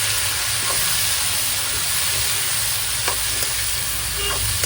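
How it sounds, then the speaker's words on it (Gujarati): Tomatoes cook and get stirred in a pan for a Gujarati dudhi palak muthiya dish, giving a steady loud sizzle with a few soft scraping clicks of the spoon. "બધું મિક્સ કરીને ટમેટાને ચડવા દેવાના છે"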